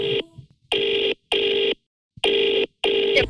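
An outgoing phone call rings back in four even, loud, regular beeps separated by short silences, heard close and alone.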